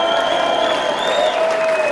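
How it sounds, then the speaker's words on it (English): An audience at the Blue Monday Festival 2018 claps steadily and dense, with some whistling and cheering mixed in over a sustained tonal ring from the stage. "Round of applause for Jackson."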